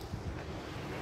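Sea waves and wind at a beach roll in a dense, steady low wash, muffled by wind buffeting the microphone.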